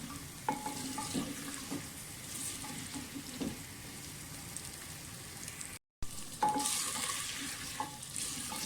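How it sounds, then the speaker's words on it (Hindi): Potato pieces fry in a clay handi for aloo palak, giving a steady broadband sizzle with scattered stirring clicks and scrapes; the sound cuts out briefly midway, then resumes a little louder. "पहले हम अच्छी तरह से आलू फ्राई करेंगे"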